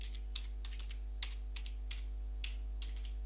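Typing on a computer keyboard, with scattered clusters of light key clicks at an irregular pace over a steady low electrical hum.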